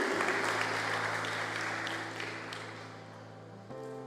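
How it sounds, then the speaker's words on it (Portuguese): Church congregation clapping for fellow members, a fairly faint, diffuse patter of hands that gradually fades, sitting over a sustained organ or keyboard chord that shifts near the end. "Aplauda a vida desses irmãos"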